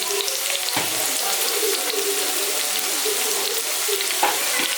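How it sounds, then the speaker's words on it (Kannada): Tempering for flattened rice (avalakki) sautés in a pan with a steady, close sizzle and frying hiss throughout, broken by brief scraping stirs. "ಒಗ್ಗರಣೆ ಹಾಕಿ ಅದೆಲ್ಲ ಹಾಕಿ ಬಾಡಿಸ್ತಾ ಇದ್ದೀನಿ"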